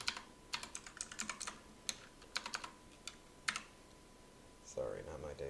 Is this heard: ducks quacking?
no